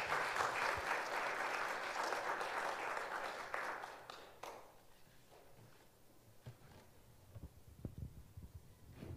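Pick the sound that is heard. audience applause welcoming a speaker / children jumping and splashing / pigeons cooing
audience applause welcoming a speaker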